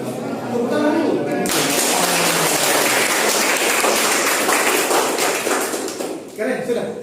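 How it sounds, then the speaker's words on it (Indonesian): An audience applauds after a university lecture on Indonesian political systems, a dense burst of clapping that lasts about five seconds and then fades, with brief speech before and after. "Tepuk tangan dulu."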